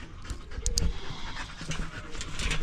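Dogs pant hard and fast right up close in a steady breathy rhythm, with a few brief scuffles and thumps and no talking.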